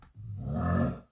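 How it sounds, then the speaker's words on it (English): A single guttural zombie grunt from the game Call of Duty, a low, rough growl that swells and holds for about a second, close and alone. "Let's import the zombie sound."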